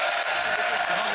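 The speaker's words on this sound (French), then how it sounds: "Mesdames et messieurs, je vous demande d'applaudir Jérôme" A game show studio audience applauds the winner with dense, continuous clapping that fills the brief moment from start to finish, alongside a broad crowd roar.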